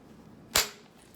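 A single sharp strike as a flake is driven off a tri-lobed stone point during flint knapping, a crisp percussive crack with a short ringing tail, heard close and alone against quiet background.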